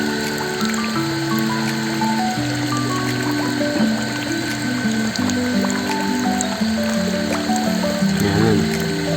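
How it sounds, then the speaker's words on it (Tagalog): Water runs steadily into a fingerling fish pond, a continuous loud flow with shifting gurgling tones that go on without a break. "umaagos ang tubig nila"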